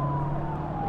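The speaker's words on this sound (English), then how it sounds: "Where the fuck is that siren coming from?" An emergency siren wails steadily at moderate loudness with a sliding tone, heard briefly amid traffic with no talking.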